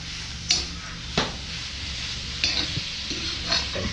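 A spoon stirs a frying Malvani vegetable dish of vilayati drumstick in a pan, with a constant sizzle and several sharp scraping clinks against the metal.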